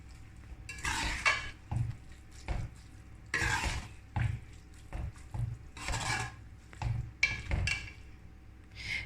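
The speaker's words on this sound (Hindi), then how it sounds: "सब्ज़ धनिया डाल के मिक्स करेंगे" A spoon stirs fresh coriander into a bitter gourd and lentil dish in a pot, making repeated close scraping strokes against the metal in an uneven rhythm.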